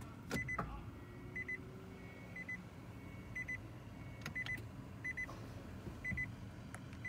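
A 2019 Nissan Leaf electric car's reverse warning beeper chirps in short repeated pairs of tones over a low motor hum, fairly quiet, with a few clicks and knocks.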